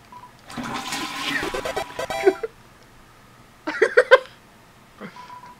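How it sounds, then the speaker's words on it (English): A toilet flushes in the video game Deltarune, a loud rushing swirl of water lasting about two seconds, followed by a shorter gurgling burst and a faint trailing hiss. "I like how Chris automatically turns away once I flush the toilet"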